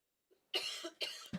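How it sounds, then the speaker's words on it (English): A man coughs into a microphone during a live VEGA rocket launch broadcast from the Guiana Space Center, one small throat noise followed by two sharp, close coughs in quick succession. "I've got a bit of a cough."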